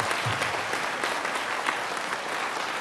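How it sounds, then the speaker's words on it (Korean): An audience at a charismatic renewal gathering claps together in a dense, sustained burst of applause, close and even in loudness throughout with no talking over it. "원하시는 분은 박수를 치세요."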